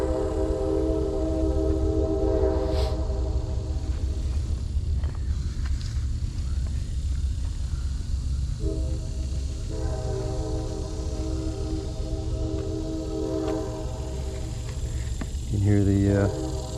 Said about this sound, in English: You can hear the train approaching the station.